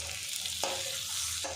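Pieces being fried crispy in mustard oil give a close, bright sizzle, broken by a few quick stirring or turning scrapes as they are flipped in the pan.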